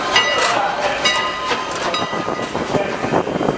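A Strasburg Rail Road train rumbles and rolls steadily into East Strasburg Station with metallic rail clatter and squeal, fairly close and continuous throughout.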